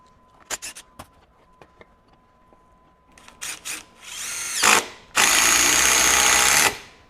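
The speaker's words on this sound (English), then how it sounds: "Now I'm going to go to speed 3. Quite a bit faster." DeWalt DCF845 brushless impact driver on speed 3 sending lag screws into split wood: scattered clicks and taps give way to two short bursts, then a loud sustained hammering drive of about a second and a half, close and alone.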